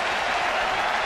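A baseball stadium crowd roars and applauds in a steady, broadband wash with no pauses.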